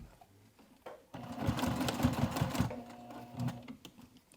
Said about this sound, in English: I just swapped out to a narrow zipper foot so that I can get really close to the D-ring here. So again, we're sewing with the lining side up.